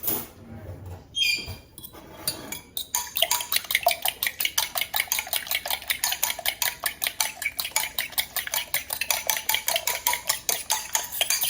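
A grits soufflé mixture is beaten in a bowl, the utensil scraping and tapping against the sides in a fast, steady rhythm that runs continuously after a few brief opening clinks.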